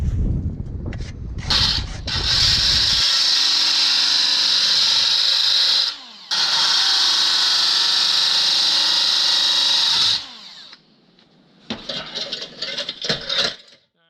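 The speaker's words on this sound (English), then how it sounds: "grinder, I'm going to grind off some of that screen" An angle grinder grinds off the expanded metal screen of a chimney cap in two long, loud, high whining bursts separated by a brief pause, then rattles and short stuttering touches as it spins down; no talking.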